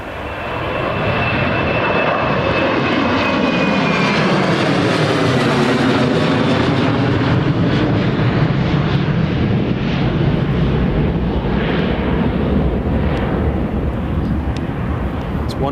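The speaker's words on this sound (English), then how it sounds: "here's the Jet2 737-800 just departing now" A Jet2 Boeing 737-800 jet departs Newcastle airport with a loud, sustained engine roar that swells and sweeps in pitch as it climbs past, steady throughout with no talk over it.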